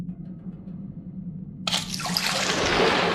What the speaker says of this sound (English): The tub is full.